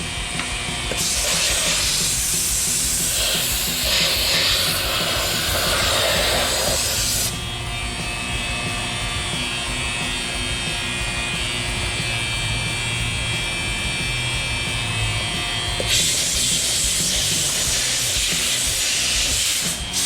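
A vacuum former pump runs with a loud, continuous hissing roar and a steady mechanical whine, changing character midway and then returning to the harsher hiss, no voices.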